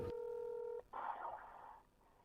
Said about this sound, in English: we're gonna see if he picks up the phone